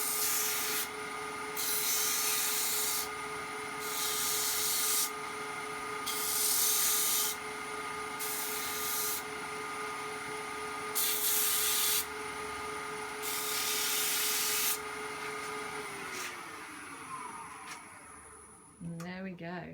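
A power sanding pad grinds steadily against a wood-turned soap dish in repeated bursts, loud and close, then winds down and stops near the end.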